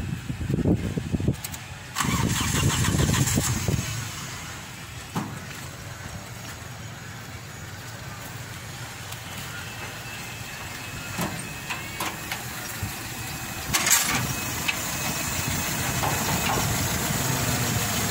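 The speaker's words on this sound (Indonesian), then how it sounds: "Nah, kita nyalakan mesinnya." A used car's engine cranks and catches, then settles into a steady, moderately loud idle that runs on for many seconds, with a few faint clicks and knocks over the hum.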